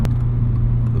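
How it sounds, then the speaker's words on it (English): Toyota GR86 Hakone Edition engine held against its rev limiter, a loud, close, steady droning buzz with a sharp stuttering cut near the start, no voices. "Jeez, that red line, it cut you off quick"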